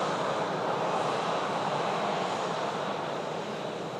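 Airplanes at Manchester Airport make a steady, broad jet-engine roar that holds at a constant level throughout, with no voices over it.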